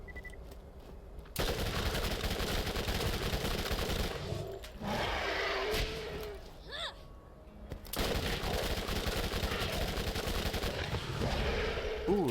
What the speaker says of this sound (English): Let me do some SMG.